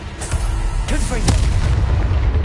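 Fiery Confringo spell blast in Hogwarts Legacy, a loud booming burst with a crackling tail, followed by further rumbling impacts in quick succession.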